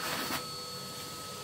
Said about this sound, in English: And then we get the Hoover.